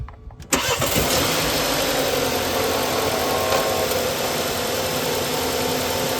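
A Ferrari 360 engine cranks and catches after a brief quiet moment, then settles into a loud, steady close idle that drones on alone without talk.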